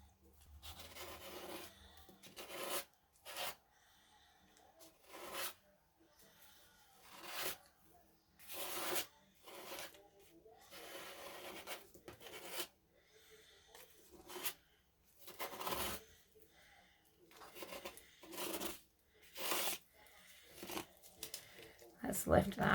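A spatula scrapes and rubs across paper on an art journal page in a traveler's notebook, a series of short dry rasping strokes in bursts with pauses between them, close and fairly quiet.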